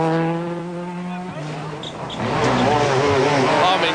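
A Ford rally car races through a stage of the San Remo rally, its engine note rising and shifting loudly and close, with harsh revving and a brief tyre scrabble over steady broadband road noise.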